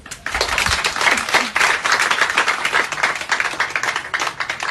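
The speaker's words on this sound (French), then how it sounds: "Ça, c'est un prix à applaudir." An audience applauding an award won by an Ivorian actress, a bronze stallion for a lead film role, with loud, close, continuous clapping that begins abruptly and holds steady throughout.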